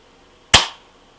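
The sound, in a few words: trigger of Well M16A3 spring rifle being pulled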